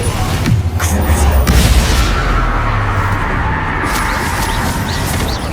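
Bombarda spell explosions in a Hogwarts Legacy boss fight, a loud roaring boom with a heavy low rumble early on, then sustained blasting noise and battle din that stay dense and loud.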